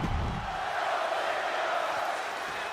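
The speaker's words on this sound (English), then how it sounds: "the crowd chanting for Ziggler here tonight" An arena crowd chants in the WWE 2K23 wrestling game, a dense, sustained roar of many voices with a steady rhythmic swell, loud and filling the space without pause.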